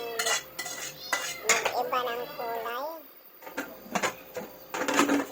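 Pork sinigang is stirred in a metal pot, with clanking and scraping of a utensil against the pot in quick irregular bursts, close and fairly loud, while a person talks over it.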